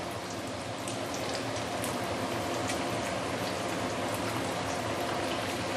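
Chicken wings for belacan chicken fully submerged in deep-frying oil, a dense, even, loud bubbling hiss that runs unbroken throughout, with no voices.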